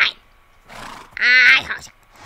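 A Minecraft horse lets out one loud, close, wavering whinny midway, framed by softer snorts and breathy grunts before and after.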